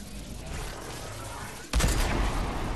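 Distant rumbling gunfire and a sudden louder burst of shots and blasts partway through, a busy video game battle din with no talking.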